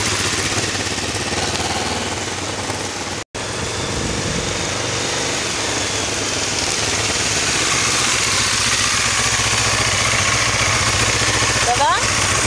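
A Honda CB500 motorcycle engine runs steadily and loudly close by, with small throttle rises and a brief cutout partway through, and no voices over it.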